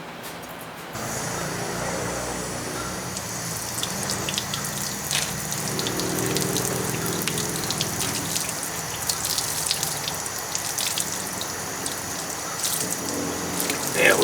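A garden hose runs water to flush a 1987 Johnson 40 hp outboard motor, the flow gushing steadily and fairly close with a faint hiss, starting abruptly after a second and continuing alone.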